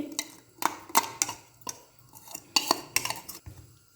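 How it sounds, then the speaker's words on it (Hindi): A spoon scrapes and clinks against a bowl while chicken is mixed into a yogurt masala marinade, giving a series of irregular sharp taps and stirring scrapes, quiet and close, with no talking. "अब जो मेरे पास चिकन था हम इसके अंदर डाल देंगे।"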